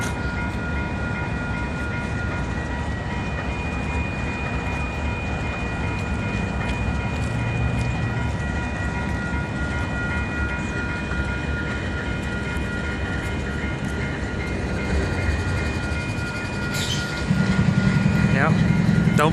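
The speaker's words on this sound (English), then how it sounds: "Everybody here is stopped for a train that's going nowhere." Freight train idling at the 11th Street SW level crossing in Calgary, a steady low rumble and hum with faint tonal whine, a brief squeal near the end and a louder surge as it moves; cars wait nearby.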